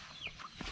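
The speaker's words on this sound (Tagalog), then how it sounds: "At ayun ang mga pato ni Carmelo." Pet ducks quack and chatter softly in a few short, faint calls at a distance.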